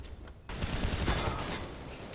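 Rapid gunfire in a Counter-Strike match, a loud burst of overlapping shots starting abruptly after a brief quiet moment and continuing as a dense, crackling volley.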